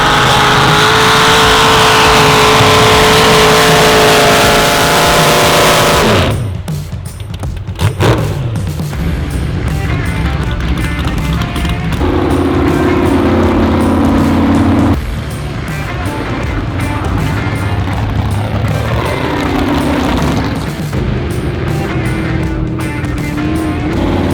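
Pulling tractors roar loudly at the Elmore 2024 Tractor Pull, one heavy engine bellowing and rising in pitch for several seconds, then cutting off as further engines rev and drone in pulses.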